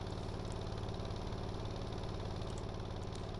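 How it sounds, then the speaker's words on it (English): A harbor generator in the Stormworks game drones steadily and loudly, a constant low engine hum with an even rhythmic chug and no change in level throughout, no speech. "That harbor generator is very loud."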